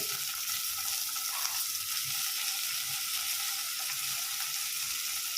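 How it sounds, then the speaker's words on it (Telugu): Bottle gourd and tomato pieces fry in hot oil, a dense, even sizzle with faint stirring underneath, steady throughout and moderately quiet. "కొంచెం హీట్ ఎక్కిన తర్వాత మనం కట్ చేసి పెట్టుకున్న ముక్కలు ఉన్నాయి కదండి సొరకాయ ముక్కలు అలాగే టమోటా ముక్కలు"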